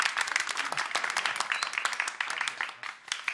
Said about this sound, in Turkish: Hadi bir moral alkış verelim